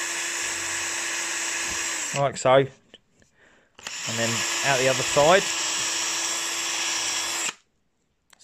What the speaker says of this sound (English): So I'm just drilling out the clips and then I'm going to drill through the pipe